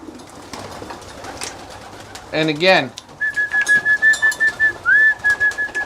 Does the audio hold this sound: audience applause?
no